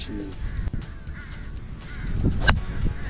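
A crow caws harshly a few times, fairly near, on the Old Macdonald golf course at Bandon Dunes, with outdoor wind and light background noise.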